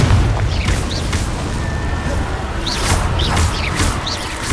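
Confringo blasting spells exploding in Hogwarts Legacy, loud booming blasts with crackling bursts over a low rumbling battle din, several impacts spread across the stretch.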